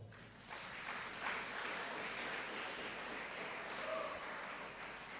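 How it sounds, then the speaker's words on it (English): Audience applause at a youth manifesto launch in a Lilongwe hotel, steady indoor clapping from a crowd, moderately distant and continuous for about five seconds. "I thought they deserve a big round of applause"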